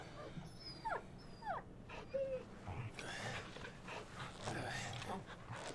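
A dog in the Final Fantasy 16 video game whimpers and whines in a few high, rising yelps, near and moderately loud, over a soft game soundscape with light rustling.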